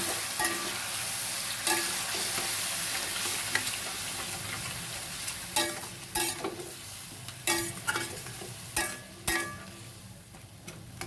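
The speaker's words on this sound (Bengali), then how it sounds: "জল দিয়ে ভালো করে কষবো।" Curry frying in a pan with water added, a steady sizzle broken by repeated scraping stirs that come in bursts, growing sharper and more frequent toward the end, with no talk.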